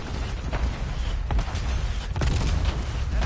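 Dense, continuous rumble of distant explosions and gunfire in a Call of Duty: Black Ops 6 multiplayer match, with a few sharper blasts standing out around the midpoint and near the end.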